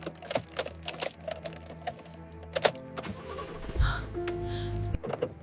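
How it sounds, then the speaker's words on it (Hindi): A car engine cranks and whirs briefly but fails to catch, amid clicks and mechanical rattles, followed by a short electric hum. "गाड़ी तो स्टार्ट ही नहीं हो रही।"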